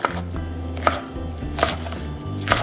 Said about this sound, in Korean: 이렇게 3cm 정도로 썰어서 같이 넣어보도록 하겠습니다